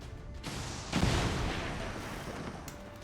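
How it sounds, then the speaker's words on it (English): A rocket explosion in the XCOM strategy game lands as a single deep, booming blast about a second in, then rumbles and fades slowly over a dull background, with no speech. "Let's see if we can land this rocket on top of them."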